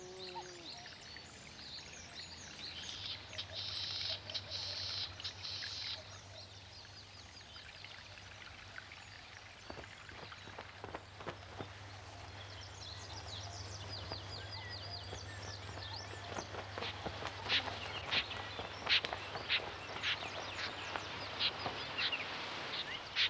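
Birds in a marsh in Hokkaido, Japan, giving scattered short chirps and clicking calls that grow busier in the second half, over a steady rushing, stream-like wash of water and wind.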